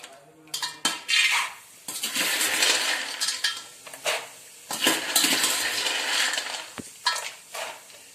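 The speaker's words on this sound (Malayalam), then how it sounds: "എണ്ണ ഏകദേശം ചൂടായി. നമ്മൾക്കിനി കപ്പലണ്ടി ഇട്ട് കൊടുക്കാം" Peanuts are tipped into hot oil for roasting, giving a bright rattling clatter of nuts hitting the metal pan, followed by bursts of crackling sizzle and stirring clinks in uneven surges.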